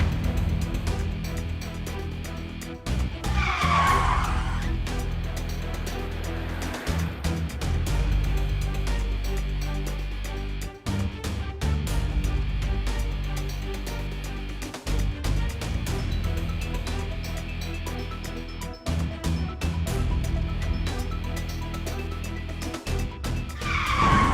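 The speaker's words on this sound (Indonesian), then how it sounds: "ada mobil ngerem mendadak Bu" A car brakes hard with tires skidding and squealing in a tense drama scene, a loud sustained screech over engine noise that cuts out and returns several times across the stretch, with no talk over it.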